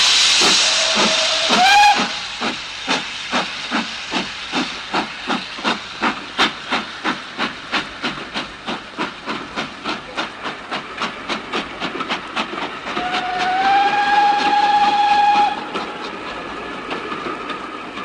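Steam locomotive pulling away from a station: a loud hiss of steam and a whistle toot open, followed by a long series of evenly spaced chuffs that gradually quicken, then a second sustained whistle blast near the end.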